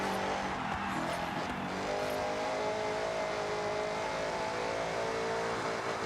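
A modified two-valve car engine in Forza Horizon 6 revs steadily with a sustained loud drone and harmonic whine, carrying on continuously with no talk.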